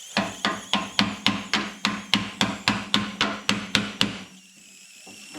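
Small hammer strikes drive a screwdriver into the spot welds on a Ford Falcon XB coupe door skin, about fifteen sharp, evenly spaced metallic blows, close and alone, before the tapping stops.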